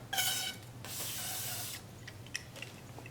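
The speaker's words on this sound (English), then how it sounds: "Give it a bath in WD-40." Two short bursts of WD-40 aerosol spray hiss close by into a cap and ball revolver's bore, followed by faint drips and small clicks.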